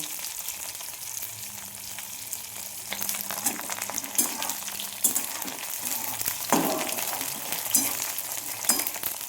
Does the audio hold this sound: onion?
yes